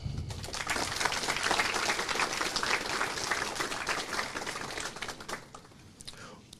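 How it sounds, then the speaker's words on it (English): Audience applause at the 2023 School of the Year award presentation, a dense, steady patter of many hands clapping that holds for most of the stretch, then thins and fades toward the end. "So how about a round of applause?"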